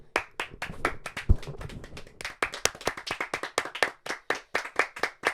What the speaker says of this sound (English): Round of applause for the women, please.